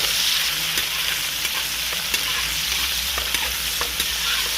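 Pimento and hot pepper fry in hot oil in a pot for a chataigne curry, giving a steady, close sizzle with scattered light scraping taps of a stirring spoon.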